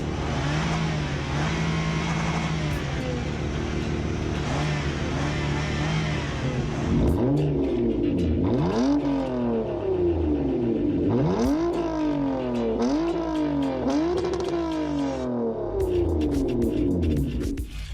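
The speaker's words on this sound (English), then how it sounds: "Sometimes they also do not have a muffler and are very loud." Straight-pipe car exhausts with no muffler, first a loud steady drone, then a series of aggressive revs rising and falling in quick bursts, harsh and close-up.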